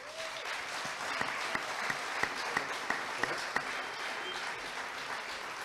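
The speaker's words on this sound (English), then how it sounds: "Keep your applause going for John Paxman right here." Audience applause at a political candidates forum in the Lake Worth Playhouse, a dense sustained roar of many hands clapping throughout the room, with a few sharper claps standing out near the front.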